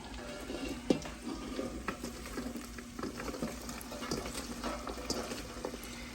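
Cabbage frying in bacon grease with onions in a pan, a faint steady crackle and bubbling with scattered soft clicks of stirring, close but quiet, no talking.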